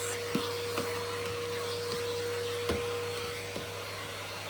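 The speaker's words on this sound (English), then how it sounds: "I love vacuuming in this room actually" A vacuum cleaner fitted with a dusting brush runs steadily along skirting boards indoors, a constant motor drone broken by several soft knocks as the brush bumps the wood.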